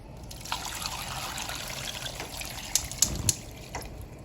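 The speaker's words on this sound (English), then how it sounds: "Let me add more water." Water trickles and splashes as it is poured into a pot of boiling chiles for red beef tamales, close by, with a few brighter splashes toward the end.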